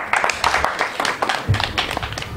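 Applause from an audience at a secondary school project launch ceremony, a dense crowd clapping steadily for a couple of seconds with murmuring voices mixed in.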